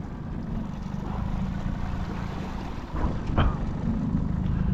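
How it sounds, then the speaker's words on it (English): A motorboat's motor drones steadily with wind buffeting the microphone, growing a little louder toward the end as it speeds past on Lake Erie. "Got another boat speeding over this way."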